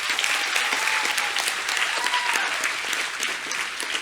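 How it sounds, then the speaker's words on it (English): Dense, loud audience applause fills a large gathering, a steady wash of clapping from many hands with a few voices faintly calling out underneath. "Let's have another round of applause."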